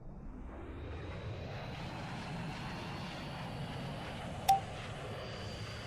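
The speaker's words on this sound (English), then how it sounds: "Let's turn on engine power." Jet engine spooling up in the VTOL VR flight game, a steady low rumble and whine holding at an even level throughout, with one brief click near the end.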